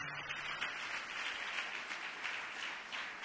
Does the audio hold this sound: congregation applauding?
yes